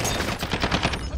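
Rapid automatic gunfire from the video game Warzone, a loud, close, continuous burst of shots with no speech.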